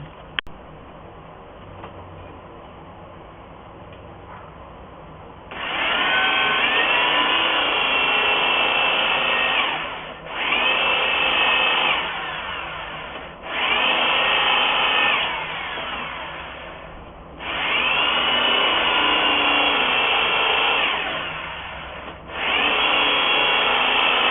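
A power drill whirs loudly in several long bursts while drilling a mounting hole for an SO239 connector on a VHF Yagi antenna, pausing briefly between each run, close up and steady while running, with no speech.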